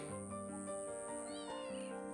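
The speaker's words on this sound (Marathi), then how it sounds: "हे बघा, आमचं मांजरू माझ्यासोबत येत आहे." A cat on a Konkan village walk meows close by in a short, clear, drawn-out call that rises and falls, with faint outdoor background.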